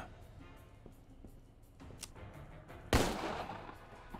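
Gunfire in the Empire of Sin gangster strategy game: soft scattered clicks and distant pops, then one loud, close shot that rings out and decays over a low rumble.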